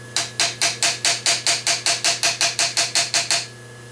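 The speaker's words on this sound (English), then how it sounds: "Okay, hammer it down." About fourteen steady hammer taps ring out in an even rhythm as a narrow workpiece is knocked down onto a single parallel held in a machinist's vise, each strike sharp and close over a low machine hum.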